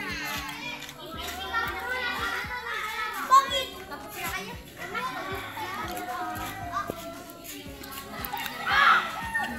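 Children playing traditional Filipino outdoor games such as patintero fill the scene with steady chatter, shouts and laughter, with adults talking nearby over the lively, continuous crowd noise.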